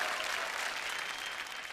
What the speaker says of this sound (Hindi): एक बार जोरदार तालियां हो जाए कल्पना चावला जी के लिए।